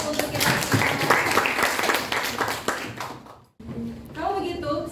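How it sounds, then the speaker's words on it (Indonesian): Classroom audience of twelfth-grade students clapping together, a dense burst of applause filling the room for about three seconds before stopping abruptly, followed by a teacher resuming talk. "Berikan aplaus untuk kita semua."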